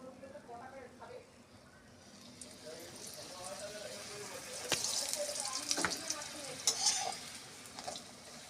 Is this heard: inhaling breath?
no